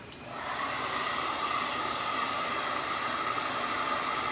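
Hair dryer blowing on a handmade bumblebee craft piece, a steady loud whooshing hum that starts abruptly and runs on without a break.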